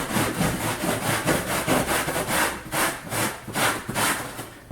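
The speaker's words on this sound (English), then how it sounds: "it's like wet sanding." Rhythmic back-and-forth scrubbing strokes of wet sanding over a painted RV seat, close and steady with about a dozen abrasive passes.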